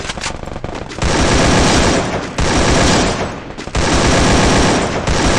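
Rapid automatic gunfire in a shooting video game, loud and dense sustained bursts of about a second each, separated by brief pauses, with no speech.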